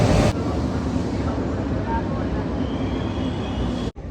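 A crowded train in Paris rumbles along with a steady, close, continuous mechanical roar and rattling of the carriage, heard from inside, with some faint higher tones and a brief dropout near the end.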